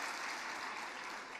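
An audience at a Turkish political party meeting introducing a family support insurance scheme claps in dense, steady applause, fairly quiet and unbroken for the whole short stretch.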